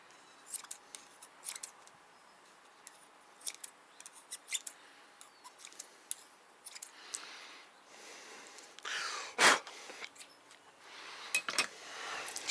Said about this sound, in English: I'm probably going to give that a trimming right now just to clean that up